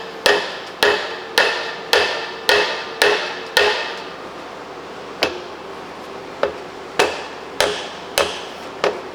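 A hammer taps again and again on an 80-year-old motor part. The first strikes fall in a quick, steady run, then come more sparsely, with sharp metallic knocks that sound close and fairly loud.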